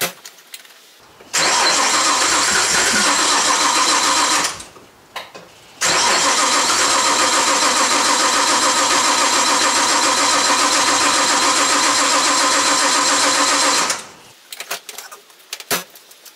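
A car engine with a cold-start issue cranks loudly on a cold 13-degree start, first in a three-second burst, then again in a longer run of about eight seconds after a short pause.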